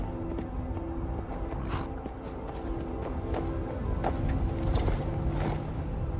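Horse hooves clip-clop at a steady pace in the video game Skyrim, under a low ambient drone, with faint creaks mixed in.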